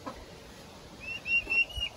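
A brief, faint high-pitched turkey call, a wavering trill rising out of a quiet background.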